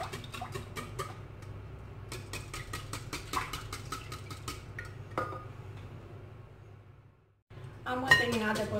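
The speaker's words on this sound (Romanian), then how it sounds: "Voi bate puțin laptele împreună cu ouăle." Milk and eggs whisked together in a bowl: rapid, regular clinking ticks of the whisk against the bowl in steady bursts, briefly pausing before resuming, with some speech near the end.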